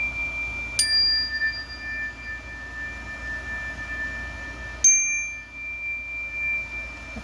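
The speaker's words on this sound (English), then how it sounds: "I'm doing some sound clearing, so I'm going to hit this little chime here" A small chime is struck twice, about four seconds apart, each strike ringing out bright and clear before decaying slowly over a quiet room.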